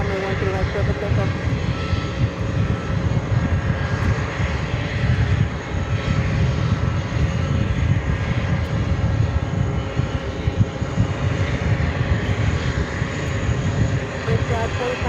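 Engines of an Airbus A330 airliner arriving from Belgrade at JFK airport produce a steady, loud roar throughout, with talk from radio chatter or a voice running underneath the noise.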